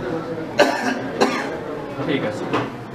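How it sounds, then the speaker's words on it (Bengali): A patient lying on an examination couch in a surgery case assessment coughs again on request, two distinct close coughs followed by a couple of softer breathy coughs, with low room tone between them. "আবার কাশি দেন তো।"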